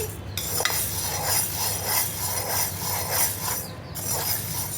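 Black gram (urad dal) fried in a pan, with steady soft sizzling under repeated light metal scraping and clinks of a spoon against the pan, close and moderately quiet.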